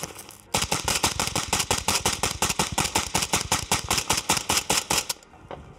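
A compact suppressed rifle fires a full magazine in one rapid burst, about forty sharp muffled reports in fast even rhythm, close and loud for roughly five seconds, then stops with no talking.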